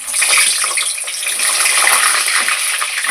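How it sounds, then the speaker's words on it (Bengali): Halved pointed gourds, slit at the ends, deep-frying in hot oil with a pinch of turmeric, a steady loud hiss and crackle of sizzling that runs continuously and close throughout. "এবার এগুলো আমি ভেজে নেব।"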